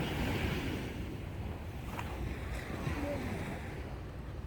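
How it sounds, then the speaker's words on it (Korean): Ocean waves wash up on Haeundae beach in the morning with a steady broad roar of surf and some wind buffeting, close and continuous. "여기까지 파도가 오네?"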